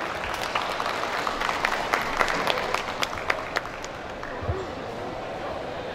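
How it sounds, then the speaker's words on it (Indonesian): Audience clapping at an architecture and interior design talk show, a steady wash of applause with scattered sharper claps, moderately loud and continuous throughout. "Boleh berikan tepuk tangan kepada narasumber kita yang pertama."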